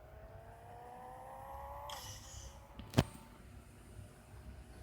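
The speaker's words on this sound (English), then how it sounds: "all I'm hearing is blow-off valve" A Subaru WRX in the racing game Pixel Car Racer revs with a rising engine tone. A burst of airy hiss from the blow-off valve follows, then a sharp, loud pop before the engine settles back.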